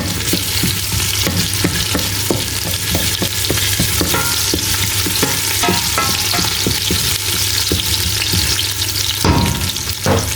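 Onions sizzle and fry in hot red palm oil, a loud steady crackling hiss with repeated stirring scrapes throughout and no talking.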